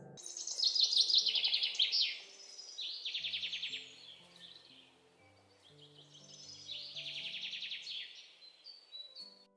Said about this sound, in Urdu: اس رات جنگل میں پہلی بار سب پرندوں نے کالے سائے کے لیے گیت گایا۔